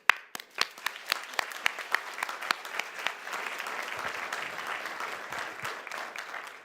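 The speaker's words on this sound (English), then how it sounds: "Give a quick clap for that" Quick applause breaks out in a county board of supervisors meeting room, starting with a few distinct sharp claps and filling out into a moderate, steady patter from the gathered attendees.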